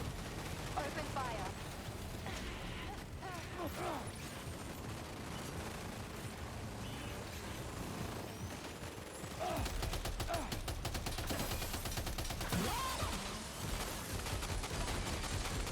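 Sustained bursts of rapid gunfire during a firefight in Death Stranding 2: On The Beach, steady and fairly distant under a dense game mix, growing heavier and more intense in the second half.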